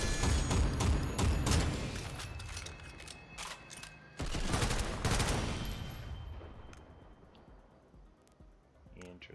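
Pistol shots ring out in SYNTHETIK 2 as a fast series of sharp, loud cracks with mechanical clatter, then a second burst that fades into a quieter decaying tail.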